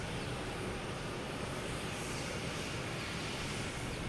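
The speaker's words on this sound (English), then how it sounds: "Next to arrive is JetBlue from Philadelphia," A JetBlue Embraer E190 jet arriving at Boston Logan from Philadelphia sounds as a steady, broad engine roar that holds at a constant loudness for the whole stretch, with no voices.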